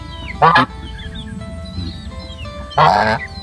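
Two loud goose honks, one near the start and one near the end, separated by quieter background noise.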